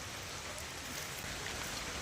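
Steady rain falls through a forest, a dense continuous hiss of drops with no break and no voices.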